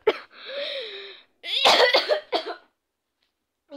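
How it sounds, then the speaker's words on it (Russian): A woman coughs in short raspy bursts, a first cough followed by a cluster of harsher hacking coughs, close and loud, with silence around them. "я все время, когда про себя или вслух смеюсь, я все время кашляю"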